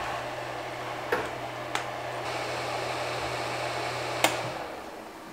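A Creality Ender 3 3D printer fitted with upgraded silent fans runs as a steady low whir and hum, broken by a few sharp clicks, and then the hum cuts out near the end.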